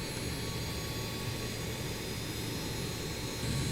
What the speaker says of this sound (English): And we have 4 good engine starts.